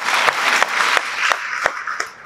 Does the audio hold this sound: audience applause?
yes